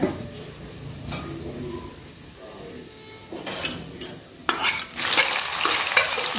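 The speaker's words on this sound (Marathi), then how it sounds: "तेल तापलं आहे आपलं आता त्यात आपण जिरं टाकून ओढ देऊन घेऊया" Cumin seeds crackle and sizzle in heated oil for a tempering, with a steady frying hiss and occasional stirring scrapes that swell louder toward the end, close by.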